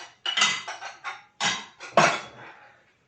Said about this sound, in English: I'm going to grate it.